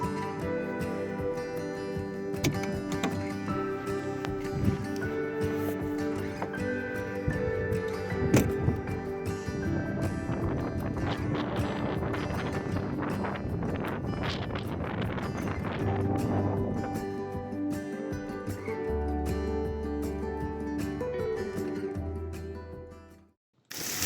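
Strong gusting wind buffets the microphone during a desert storm at Quartzsite, a continuous rushing roar that swells and fades, with occasional knocks and rattles nearby.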